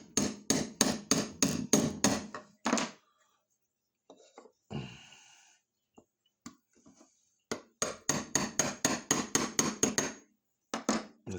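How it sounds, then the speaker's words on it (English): A 13mm socket sits on a shaft seal in an aquarium pump and is tapped in with a hammer, giving two bursts of rapid, even metallic knocks, about eight each, close up with quiet handling between them. "I take a 13mm socket. I place it on top of the seal and then just gently tap it in."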